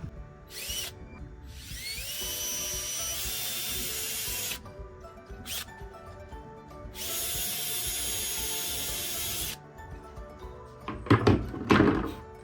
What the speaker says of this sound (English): I need to drill holes through here so it just goes through easily to attach to the cement board.